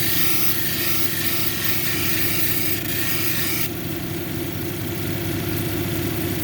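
Edge of a quartz and jasper plume cabochon being cut on a lapidary saw, a loud, steady grinding whine with a constant motor hum that shifts tone partway through.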